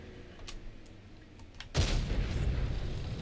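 Gunfire in a first-person shooter video game: a sudden loud burst of shots after a quiet stretch with faint ticking, the blasts followed by a sustained noisy rumble.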